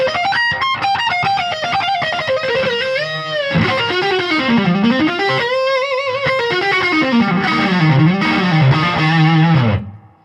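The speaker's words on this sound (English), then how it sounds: "Turn on the treble boost, and you turn on the presence boost, and then you can use the gain boost" An electric guitar played through an amp with treble, presence and gain boosts engaged rings out in a bright, overdriven lead line with bends and sustained notes, loud and close, about ten seconds with no talking before it cuts off.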